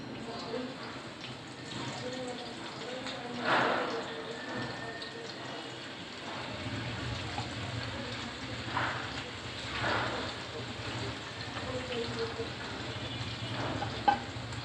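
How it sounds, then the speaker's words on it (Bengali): Hilsa fish pieces fry in hot oil in a pan, giving a soft, steady sizzle with a few louder bursts and light clatter near the end. "মাছগুলো দেওয়া হয়ে গেছে আমি মাছটা এখন ভেজে নিব"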